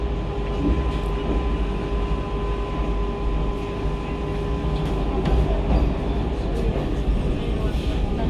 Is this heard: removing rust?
no